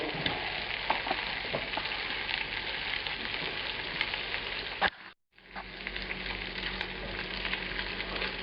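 Lightly smoked pork sausage frying in a pan for Russian sausage and potatoes, a steady close sizzle with scattered pops that drops out briefly midway and then resumes.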